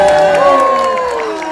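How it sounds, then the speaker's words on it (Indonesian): Press conference audience for the film Shaka Oh Shaka breaks into a short, loud burst of applause and cheering, with crowd whoops and voices mixed in and some sound fading toward the end. "Syaka tepuk tangan dulu semuanya."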